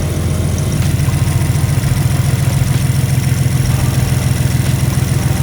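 A BMW M4 Competition fitted with a big turbo idles with a steady, low rumbling engine drone and a faint high whine above it, close and unbroken.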